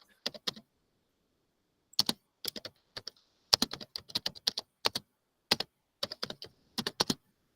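Clusters of crisp computer keyboard keystrokes come in irregular bursts with short pauses, quiet and close, with no talking.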